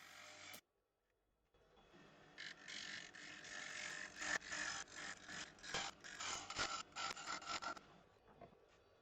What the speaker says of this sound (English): I felt the bottom needed to be blended in a little with the negative rake scraper, which is actually producing some modestly good shavings